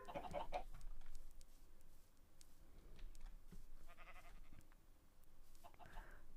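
A chicken in Minecraft gives a brief, high-pitched cluck near the start, followed by faint game noises and soft footstep-like clicks over low background ambience.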